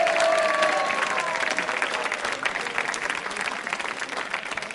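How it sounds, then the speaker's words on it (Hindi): Audience at a Republic Day special quiz show clapping together, a dense, loud burst of applause that slowly eases off, with a brief tonal sound near the start. "तालियां बजाइए आपके लिए इस संकल्प के लिए"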